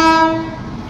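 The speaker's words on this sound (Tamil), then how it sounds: "ட்ரெயின் திருப்பூர் ரயில்வே ஸ்டேஷனை வந்தடைந்து விட்டது" A loud train horn sounds at Tirupur railway station as the train arrives, a steady harmonic blast that starts strong and fades within a second into rumbling platform noise.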